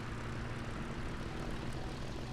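A Spitfire VB inline aircraft engine in the War Thunder combat flight game drones as a steady, dense roar, constant and loud with a low rumble and no break.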